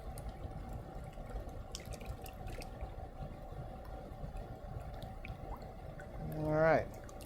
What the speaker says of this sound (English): Just going to pour that right in there.